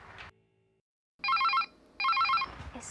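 Telephone ringing in a domestic TV drama scene, two bursts of a bright electronic warbling ring separated by a short gap, loud and close.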